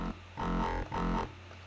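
Distorted dubstep synth bass with hyperdimension and distortion effects, two sustained, heavily buzzing notes of about half a second each with a brief dip between them, loud and alone with no voices.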